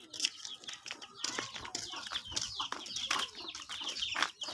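Chickens cluck and squawk around a house still under construction, busy overlapping bird calls with scattered wing flutters filling the whole stretch at moderate, close range.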